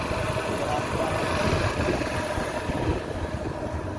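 A motorcycle engine runs steadily on a rural road in Bihar on the way to a village, producing a continuous low mid-level drone without breaks.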